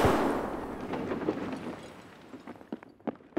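A grenade blast in the video game Escape from Tarkov: a loud, broadband boom at the start with a long rumbling decay, followed by scattered sharp clicks and thumps, no talk.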